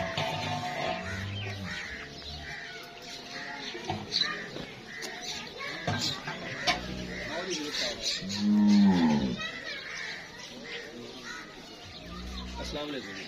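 Friesian cross cows on a Pakistani farm mooing several times, deep drawn-out calls rising out of a busy yard with voices talking, children and chickens in the background.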